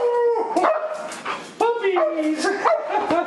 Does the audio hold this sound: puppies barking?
yes